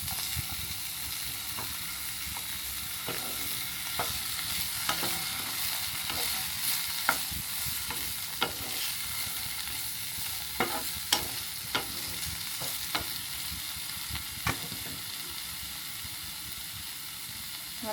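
Chopped vegetables and tomato for beetroot soup softening in a hot pan, with a steady low sizzle broken by sharp, scattered clicks and pops of stirring throughout, no voices.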